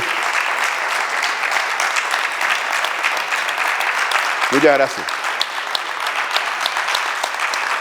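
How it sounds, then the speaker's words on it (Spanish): An audience at a folklore and ethnography conference applauds warmly, sustained even clapping throughout, with a voice briefly speaking over it midway. "esos aplausos de ustedes son para ellos"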